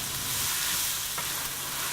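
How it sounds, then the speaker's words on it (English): Sliced onions sautéing with salt in a hot pan for a chicken curry, giving a steady, close, continuous sizzle and hiss throughout with no talking. "Then add some salt to taste and saute well."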